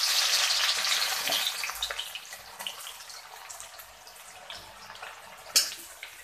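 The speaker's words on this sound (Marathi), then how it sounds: "आपलं तेल तापलंय, आपण त्यात थोडासा कांदा तळून घेणार आहोत" Onion drops into hot oil and fries with a loud hiss at first that eases into a steadier, softer crackle, and a sharp clink comes near the end.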